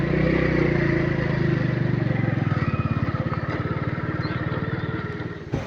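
A motorbike arriving at a hill temple at Suriyagiri Malai slows and idles close by, its loud engine putting into a steady, rapid chugging pulse before cutting off with a final clunk.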